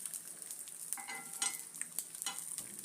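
Egg masala stirred in a frying pan, a soft steady sizzle with intermittent scraping strokes of the spoon, close and fairly quiet, no voices.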